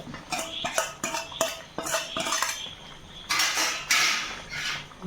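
Metal spoon scraping and clinking against a pan as ginger, onion and garlic go into a simmering fish curry, a busy run of close clatters and scrapes followed by a brighter sizzling burst.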